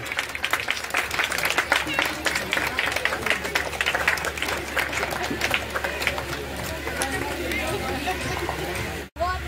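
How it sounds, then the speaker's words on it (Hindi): An outdoor crowd at a political rally applauds to welcome a guest, a brisk, dense patter of clapping that is loud at first and gradually thins over several seconds, with a murmur of voices underneath. "भरपूर ताली से स्वागत किया जाए"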